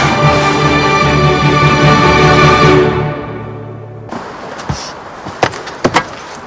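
Music fades out, then a quiet room with a few short knocks and clunks of a door being handled, scattered over several seconds.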